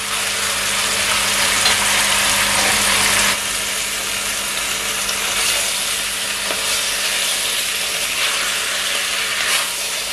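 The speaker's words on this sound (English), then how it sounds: "Yeah, just allow it to sear." Pork searing in a pot for brown stewed pork, a loud, dense, continuous sizzle and hiss that eases slightly after a few seconds and then holds steady with faint crackles.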